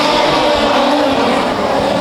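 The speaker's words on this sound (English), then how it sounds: "But your leader is car number 128 of Paul Ahern as he heads down the front straight." Production sedan race cars, including a Holden Commodore, roar loudly and steadily around an evening speedway track in Geraldton, with continuous engine noise and a hint of tyre squeal.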